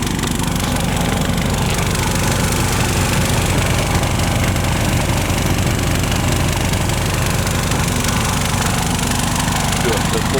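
A small engine at a rural Russian homestead runs hard and steady, a loud, dense, close drone with constant knocking vibration and no pauses, as someone speaks faintly under the noise.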